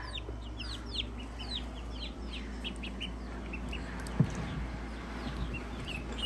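Young ducks kept indoors peep in a steady stream of thin, rising chirps over a constant low hum, with one brief thump midway.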